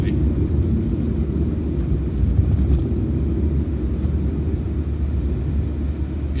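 A 2001 Mini Cooper 1.6 (R50) with 132,000 miles on it drives along, its engine drone and road rumble forming a steady, loud, low wash that continues throughout.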